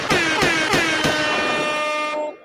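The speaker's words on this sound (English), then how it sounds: "You got some air horns over there." A loud air horn blasts in several quick pulses, then holds one long sustained blare before cutting off abruptly.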